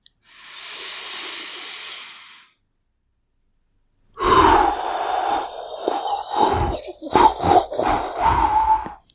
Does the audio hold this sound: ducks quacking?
no